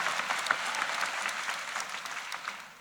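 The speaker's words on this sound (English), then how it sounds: "A round of applause to both of those sibling dyads." Audience applause fills a graduation convocation for Rutgers School of Social Work students: steady, dense clapping from a large crowd that stays even for a few seconds, then eases slightly toward the end.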